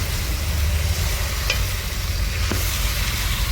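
Chicken fries in a kadai for chicken gravy with a steady, dense sizzle and low rumble, broken by a couple of faint stirring clicks, with no talking.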